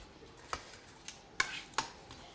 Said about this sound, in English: So with the back of the knife, if you just give it a little crush, like so